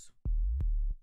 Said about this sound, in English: the 808, it's important to make these whoop sound